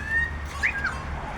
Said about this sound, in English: Why is there rainbow lorikeet here?